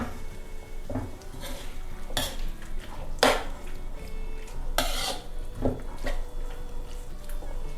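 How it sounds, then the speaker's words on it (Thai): Beef curry with coconut milk being stir-fried in a pan, with a steady scrape of the spatula and clatter against the metal. Several sharper clanks stand out over the soft background sizzle. "ระหว่างที่เราผัดนะคะ"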